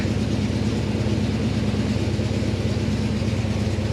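A 1970 Chevelle V8 fitted with a Holley Brawler double-pumper carburetor idles cold and slightly fast, just above 1,000 rpm, a steady, close, continuous low rumble with no pauses.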